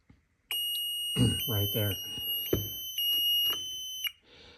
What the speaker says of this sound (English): So the relay will go off at the end of the cycle.